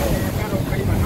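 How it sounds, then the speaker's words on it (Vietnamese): Wind and sea waves around a fishing boat out in the Gulf of Mexico with roughly one-metre swells, a steady loud rush of gusts and water buffeting the microphone throughout. "Nước nó đang lớn nên sóng gió hơi lớn chút, sóng giờ khoảng 1 mét."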